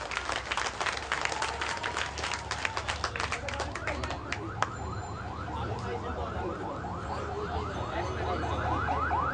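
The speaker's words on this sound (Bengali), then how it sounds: "আমরা সকলেই সবার জন্য জোরে এক করতালি।" Applause at the ribbon-cutting opening of Anabil Hospital, crowd clapping crisp and close at first, then thinning as a warbling car alarm-like siren tone rises and repeats, with voices murmuring underneath.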